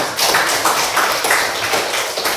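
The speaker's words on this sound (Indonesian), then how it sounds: "Tepuk tangan untuk Rizno." A small group in a classroom claps in a quick, fairly loud burst of rhythmic applause lasting a couple of seconds, with no talking over it.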